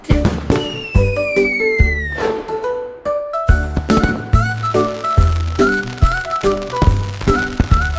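Fireworks bursting in a night sky over music, with a rising whistle early on and a string of booming and crackling pops mixed into a bouncy children's song.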